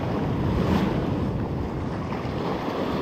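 Sea waves breaking on the shore of Antalya's Gazipaşa coast during a shore fishing outing, a steady loud wash of surf mixed with wind rumbling against the microphone.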